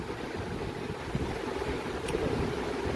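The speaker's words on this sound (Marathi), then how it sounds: "मस्त असं पाऊस पडतोय बाहेर" Monsoon rain falls steadily outdoors, a continuous, even hiss heard from indoors while chicken cooks in a clay pot, with no talking.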